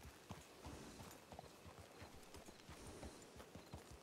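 Horse hooves clip-clop at a slow walking pace in a ranch role-play game, a soft, faint, regular beat of hoofsteps.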